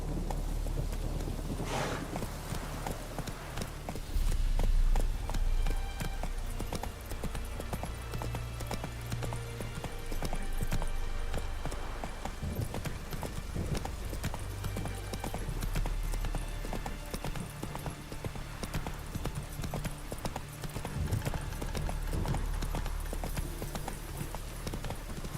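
Roach the horse galloping in The Witcher 3, a steady rapid drumming of hooves with wind rushing past, continuous and fairly loud for the whole stretch, with a heavier burst of pounding a few seconds in.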